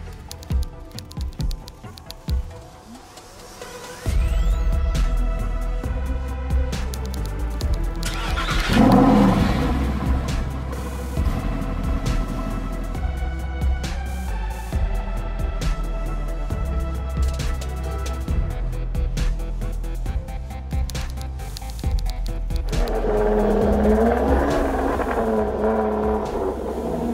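Street traffic passing close by, with car engines revving and accelerating in a steady broadband roar, a patter like light rain over it and a brief louder surge midway; no talking.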